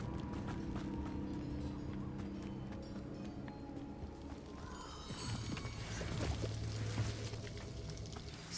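A waterfall in a video game gives a steady, rushing broadband roar that runs through the whole stretch, blended with soft tonal game music and ambient effects.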